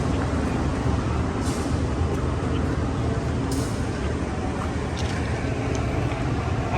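Trains and a bus side by side at Surabaya Kota station make a dense, continuous roar of engine and rail rumble with no pauses.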